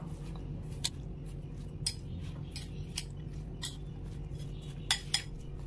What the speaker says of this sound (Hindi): इसमें लेमन थोड़ा सा डाल देंगे और इसे मिक्स कर लेना है।